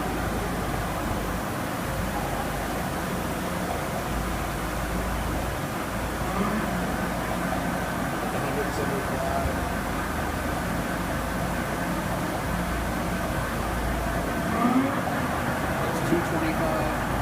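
A Chevalier CNC flat bed lathe runs in its medium speed range at about 140 RPM, a steady low mechanical hum and hiss holding constant throughout, with faint talking in the background.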